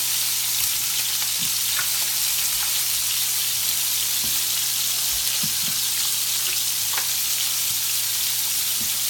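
Brussels sprouts and bacon sizzle in butter in a pan, a loud, continuous frying hiss with scattered small pops and crackles and no talking.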